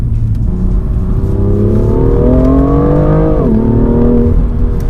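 BMW M2 with its dual-clutch gearbox and traction controls on, the engine revving hard in a rising drone that surges, briefly dips as the electronics cut power, then climbs again, loud and up close with no talking.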